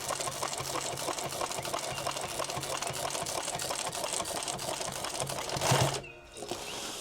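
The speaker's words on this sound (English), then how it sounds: "I'm gonna sew back through it from this side." A sewing machine stitches through hook Velcro on a gear rig, a fast, even mechanical clatter running steadily for several seconds before stopping abruptly near the end, with a faint hum afterward.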